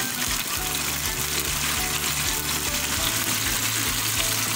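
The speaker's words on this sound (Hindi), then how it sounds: "इसमें हम डालेंगे टमाटर।" Tomatoes go into a pan of sizzling chicken karahi cooked with yogurt, giving a steady, loud frying hiss with a bubbling, watery crackle that runs continuously with no talk.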